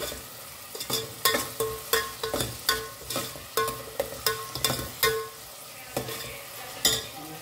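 Tomatoes are stirred and sautéed in a pan for crab sukka. Rhythmic spatula scrapes and knocks repeat roughly every half second over a low, constant sizzle.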